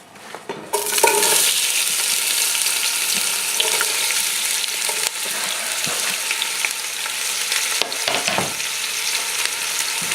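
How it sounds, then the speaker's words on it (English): Onions thrown into hot oil in a pan begin frying with a sudden loud sizzle that stays dense and steady, a few clinks and stirs breaking through, no talking. "When you think it's hot, you throw the onions in."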